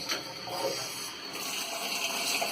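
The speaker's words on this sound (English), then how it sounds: "Let's test the shower. It's working." Water runs from a bathtub shower after a diverter repair, a steady moderate hiss of spray that flows continuously for a few seconds.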